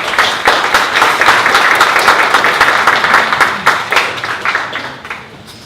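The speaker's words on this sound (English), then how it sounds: "can you guys please stand up and give AJ and David a round of applause" An audience at a morning 1 Million Cups startup event in Dallas claps and applauds steadily, a dense, loud wash of hand claps that holds for several seconds before tapering off toward the end.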